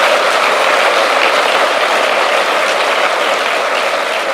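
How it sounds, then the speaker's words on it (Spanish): Church congregation applauds steadily, a loud, dense wash of clapping from many hands that holds evenly throughout with no voices on top. "Eso merece un aplauso para el Señor"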